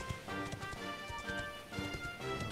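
Steady clip-clop of horse hooves trotting in Dragon Quest XI, fairly close and continuous over game music, with a brief whinny-like accent.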